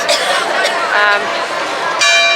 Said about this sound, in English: Bells chiming.